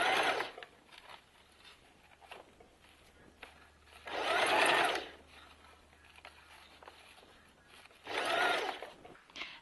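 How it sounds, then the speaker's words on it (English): Sewing machine stitching a layer of tulle onto a rockabilly petticoat while the fabric is gathered, two faint whirring runs of about a second each with soft fabric rustle in between. "Just gather the tulle as you're sewing along like this"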